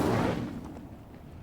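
The Incendio fire spell is cast in Hogwarts Legacy, a sharp, loud burst up front that whooshes and decays into a fading crackle within about a second.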